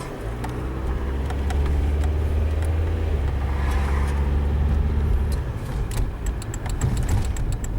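Volkswagen car with a 01M automatic transmission accelerating from a stop, engine drone rising steadily and loudly inside the cabin, with faint rattling and clicks toward the end.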